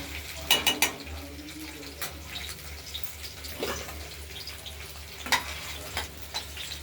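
Paneer frying in a karahi for a paneer curry: a soft continuous sizzle with intermittent sharp scrapes and clinks of a utensil against the pan, several louder strikes spaced irregularly, no speech.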